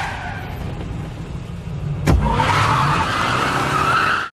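A car skids hard in a dramatic TV scene where one vehicle rear-ends another: a sharp impact thump, then a loud sustained tire screech that runs to the end, close and dominant with no talking.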